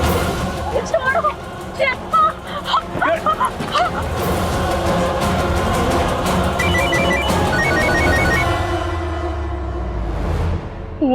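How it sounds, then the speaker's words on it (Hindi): A telephone rings unanswered in a Hindi TV drama, its repeated ringing running under background music and dramatic sound, with a brief voice early on and a low rumble near the end. "ये दीदू और डॉली दीदी फोन क्यों नहीं उठा रही हैं?"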